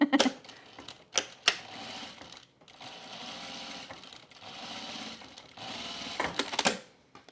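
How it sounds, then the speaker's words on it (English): A sewing machine top stitches a bralette, running in several close bursts of fast, rhythmic stitching separated by short pauses, with no talking. "now I'm going to top stitch"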